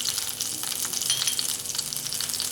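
Ginger pieces fry in a shallow layer of oil in a pan for a spicy kebab dish, giving a steady, close, bright sizzle with crackling bursts and no talking.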